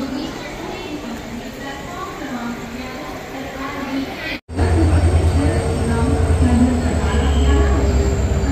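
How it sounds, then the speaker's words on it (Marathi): A passenger train hauled by a WDP 4D diesel locomotive rolls into platform 11 at Dadar, its steady rumble and wheel squeal swelling loudly after a brief break, with a voice speaking over it. "ट्रेन आलेली आहे प्लॅटफॉर्म क्रमांक 11 वरती आणि इंजिन बघू शकता तुम्ही"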